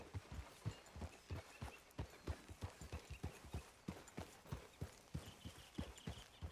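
Horse hooves clip-clop in a brisk, regular rhythm in Red Dead Redemption 2, fairly close and alone with no talking.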